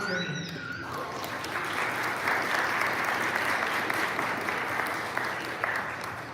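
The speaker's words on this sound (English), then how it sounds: "give all of your friends and family a round of applause" Graduates and guests at a high school commencement ceremony break into steady, sustained applause that swells and fills the hall, with a voice speaking briefly at the very start.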